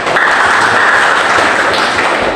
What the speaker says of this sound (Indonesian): tepuk tangan dulu untuk si Arin.